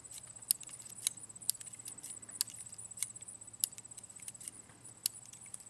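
Spent .22 magnum cartridges being removed one at a time from a Heritage Rough Rider revolver, a series of about ten sharp metallic clicks and tinks at an uneven pace, close and quiet with no voices.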